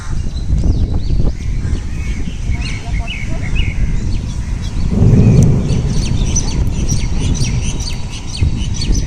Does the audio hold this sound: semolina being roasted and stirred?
no